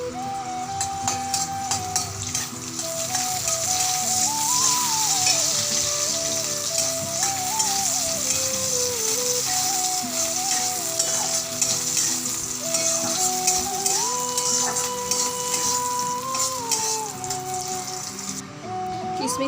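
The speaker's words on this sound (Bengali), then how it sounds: "কড়াইয়ে তেল দিয়ে দিয়েছি, কটা কিশমিশ দেবো, কিশমিশটা ভেজে নেব" Raisins fry in oil in a kadai with a dense, steady crackling sizzle that runs throughout. Sustained tonal background music plays along underneath, and no one speaks.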